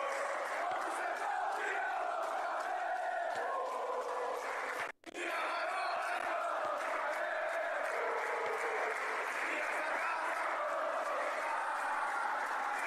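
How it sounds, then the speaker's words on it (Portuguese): A Flamengo stadium crowd at Maracanã sings and chants loudly during a Libertadores round-of-16 football match, a continuous roar with brief dips. "Vamos lá, torcida canta."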